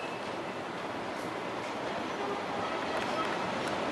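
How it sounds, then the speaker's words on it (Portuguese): A passenger train reversing at Lapa station gives a steady, fairly loud rumble of wheels and machinery, broad and continuous, with faint metallic squeaks near the end. "E agora aqui o recuo do trem, né?"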